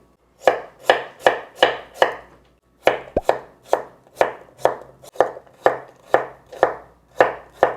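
A knife slices a radish thinly on a cutting board for water kimchi, a loud close series of about fifteen crisp rhythmic chops with one short pause partway through.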